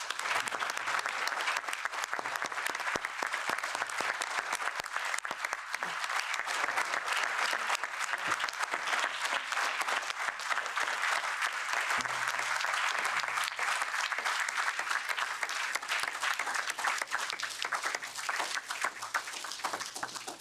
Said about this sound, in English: So can we please give a round of applause to the people that have traveled so far to be here today?